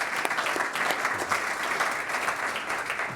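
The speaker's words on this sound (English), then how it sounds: "let's give Bernd a warm welcome and a round of applause" A conference audience applauds in welcome for a keynote speaker, continuous crowd clapping that stays even and moderately loud throughout.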